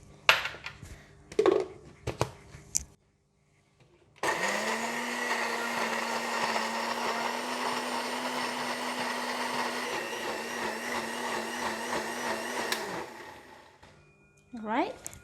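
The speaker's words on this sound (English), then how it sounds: "To blend the ginger in the blender like this, I need to put a little bit of water to help in blending." An electric blender whirs steadily for about eight seconds as it purees fresh ginger with a little water, a loud sustained motor hum with a steady pitch, set between brief kitchen clatter before and after.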